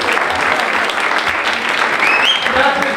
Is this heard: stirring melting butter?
no